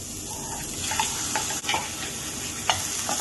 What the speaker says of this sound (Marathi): बारीक चॉप करून पियाव घाल. बरो मिक्स कर बरो भाज दिया आनी आतां हो गार्लीक हो जिंजर पेस्ट घालता